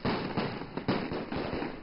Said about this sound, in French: Les pétards sont le premier cadeau que les Chinois ont offert au monde.